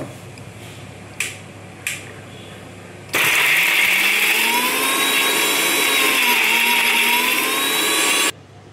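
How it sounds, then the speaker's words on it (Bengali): Mixer grinder grinding ash gourd peels with shrimp, garlic and chilli, starting abruptly with a loud steady whirring motor that holds for about five seconds and then cuts off, after two faint taps. "এই মিক্সির মধ্যে এইভাবে দিয়ে তোমরা বাটা করবে"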